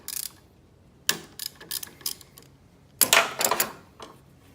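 A wrench breaks loose bolts on an Acura RSX during power steering line replacement. Several bursts of sharp ratcheting clicks come up close, with pauses between them, and the last burst is the loudest.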